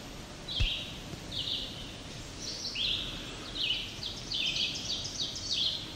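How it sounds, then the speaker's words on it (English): Ovenbird song in woodland, a rising series of loud, ringing two-note phrases repeated rhythmically, moderately near over a soft forest background with other distant birds. "That was an oven bird."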